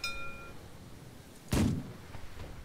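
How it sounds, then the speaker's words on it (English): A single heavy cannon boom in the video game The Last Leviathan bursts out after a stretch of low background hum, sharp and loud, then fades into a quieter rumble. "So you can control these cannons quite well."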